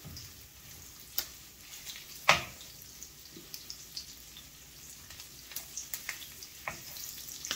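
Bacon fat and crushed garlic sizzle steadily in a hot pan for Brussels sprouts, a close, continuous crackle broken by a few sharp pops and small clacks.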